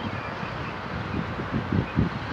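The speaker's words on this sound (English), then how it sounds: "The wind is blowing the leaves around." Gusty wind buffets the microphone and stirs foliage in a steady rushing wash, with a few louder low thumps of wind noise toward the end.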